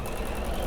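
A sewing machine stitches quilt seams, a steady close mechanical whirr with a fast even pulse throughout the short moment, alone without talk.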